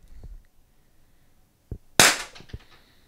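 An LTL pepperball launcher fires a single sharp, loud pop, preceded by faint handling clicks and followed by a short ringing tail.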